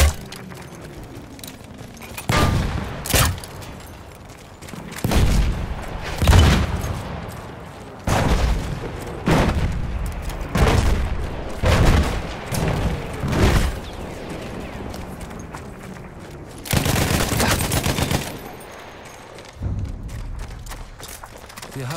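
Enemy artillery pounds a battlefield in the video game Battlefield 1, with loud, repeated blasts and gunfire bursts arriving every second or two against a rumbling combat backdrop.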